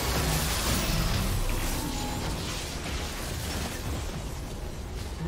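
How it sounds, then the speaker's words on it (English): Dense, sustained crumbling rumble with scattered pops as a tower structure is destroyed in League of Legends, loud and continuous for the whole stretch with no talking. "Blue team's turret has been destroyed."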